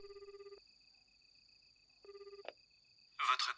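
A phone ringing tone: two long electronic ring bursts with a pause between, over a steady high tone, then a burst of noise at the end.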